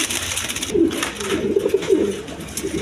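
Caged white pigeons cooing, a few soft throaty coos in a row at close range against a faint background hiss, with no talking.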